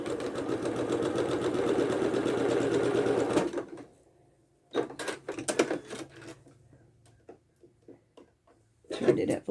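A sewing machine stitches a log cabin quilt block at a quarter-inch seam, running steadily for a few seconds and then sewing in short, stop-start bursts, close and fairly loud.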